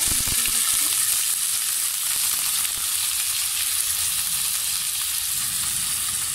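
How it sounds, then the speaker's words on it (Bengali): Chopped native onions fry in hot oil, making a loud, dense, continuous sizzle close by, with a few soft knocks at the start. "তেলটা একটু গরম হলে আমি দিয়ে দিচ্ছি 1 কাপ পরিমাণ এখানে দেশি পেঁয়াজ"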